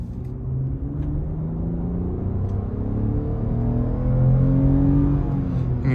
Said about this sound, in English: You can hear that naturally aspirated V6 rev its heart out.